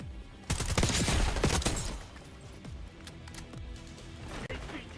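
Bursts of gunfire from a Call of Duty match crack loudly in the first two seconds, then thin out into scattered distant shots under game ambience.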